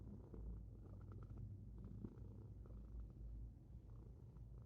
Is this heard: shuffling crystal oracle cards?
no